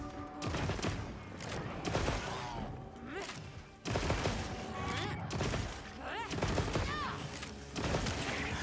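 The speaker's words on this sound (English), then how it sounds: "We'll just keep shooting." Gunfire and impacts from the video game Monster Hunter Wilds crackle in dense bursts amid game effects, with a voice talking over the barrage.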